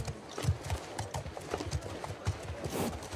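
Steady clip-clop of horse hooves trotting on a hard surface in the video game The Last of Us Part II, a quick even rhythm at moderate volume with no voices.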